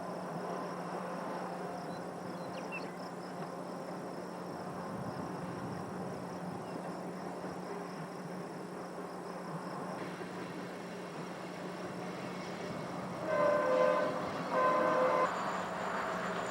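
A westbound loaded coal train on the Orange Sub in Wyoming's Powder River Basin, bound for Gillette, rumbles steadily at a distance with crickets chirping, and a few horn blasts sound near the end.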